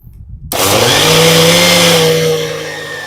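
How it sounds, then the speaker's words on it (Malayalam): A kitchen mixer jar blending dragon fruit with milk into a shake starts abruptly after a brief quiet moment, then roars loud and steady at close range before easing slightly near the end. "എന്നിട്ട് ഇതൊക്കെ കൂടി മിക്സിയുടെ ജാറിലിട്ട് അങ്ങ് അടിച്ചേക്കാം കേട്ടോ."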